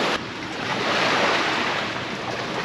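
Ocean waves washing onto a beach in Phuket, Thailand, a steady broadband surf roar that swells slightly and holds loud throughout, with some wind noise on the microphone and no talking.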